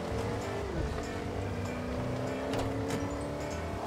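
Car engine in Fortnite Chapter 4, a steady loud drone with a shift in pitch partway, continuous and without talk.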